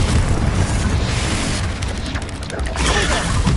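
A fire spell called Confringo goes off in a witch adventure video game, a steady loud blast with roaring rumble that dips briefly and then surges back.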